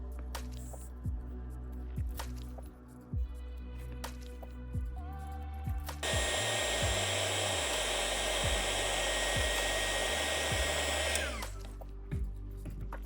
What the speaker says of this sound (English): Finish off by adding some heat shrink around them.